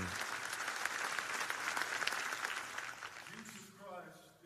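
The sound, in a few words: congregation applauding in worship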